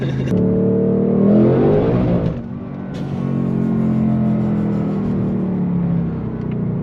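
A supercharged 2024 Ford Mustang Dark Horse with a Whipple supercharger, driven in sport mode, roars loudly from close by. The engine builds hard, dips briefly at a shift, then pulls again in a steady, heavy drone.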